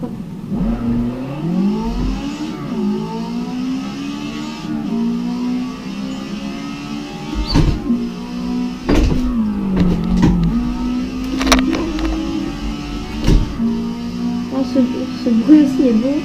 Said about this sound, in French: Ce bruit aussi est bon. Une petite Mercedes 190E.